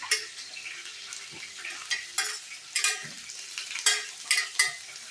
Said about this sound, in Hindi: अभी इनको फ्राई करना है, इसी से इसका मसाला बनाना है।